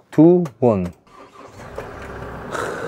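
An unregistered, nearly new automatic car with only 468 km on it starts on the first try after a brief cranking burst, then settles into a steady idle; a person speaks just before the engine catches.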